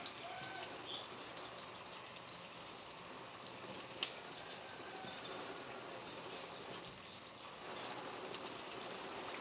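Steady hissing spray of water used to shower pet ducks, an even, constant patter with no break for nearly ten seconds and no talk over it.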